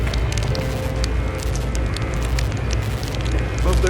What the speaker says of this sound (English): It's kind of cold down here in the Batman cave, so I put the fireplace in the bottom part of it.